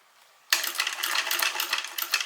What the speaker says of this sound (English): Just going to do a little back stitch.